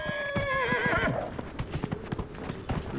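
A horse in the fantasy video game Dragon Age: Inquisition clip-clops along a narrow passage, letting out a loud neigh at the start before its steady hoofbeats carry on alone.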